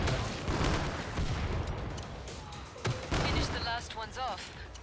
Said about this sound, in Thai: ยิงซอมบี้เลยพวกลูกน้องซอมบี้เนี่ยก็ยิงได้ นัดเดียวตายนะ